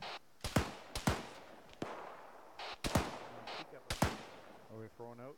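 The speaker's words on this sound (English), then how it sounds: "Apparently they're taking pot shots through the smoke." Sharp gunshots crack through smoke in a military squad training game, several single reports spread across the moment with brief gaps, loud and close, while a voice talks underneath.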